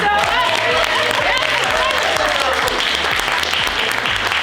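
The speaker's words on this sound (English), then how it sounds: "we kindly request that you laugh and applaud loudly" Studio audience at a recorded radio-style comedy show laughing and applauding loudly together, a dense continuous wash of clapping with cheering, with talk running underneath.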